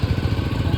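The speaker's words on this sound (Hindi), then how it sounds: "अच्छा ये ट्रैक्टर है।" A tractor engine chugs nearby with a fast, steady low-pitched throb, loud and continuous with no talk over it.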